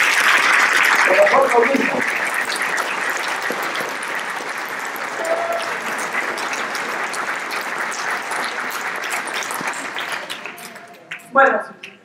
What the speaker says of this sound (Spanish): un fuerte aplauso por todos y cada uno de nosotros